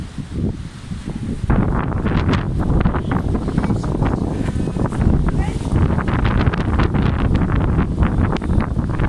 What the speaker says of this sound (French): Il y a un ouragan qui passe chez nous.